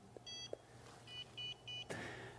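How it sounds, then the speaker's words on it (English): A Hiku shopping list scanner gives a series of short, faint electronic beeps in a quick pattern after swiping an unrecognised barcode, heard close in a quiet room. "If I swipe a barcode the Hiku doesn't recognize, I'll get a tiny little beep that'll let me know it hasn't shown up."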